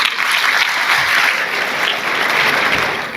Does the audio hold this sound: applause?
yes